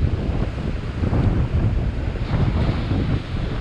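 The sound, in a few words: sea waves breaking on the shore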